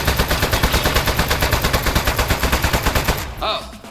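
Rapid automatic gunfire in a video game, a fast even stream of loud shots for about three seconds, then it cuts off and a short electronic tone follows.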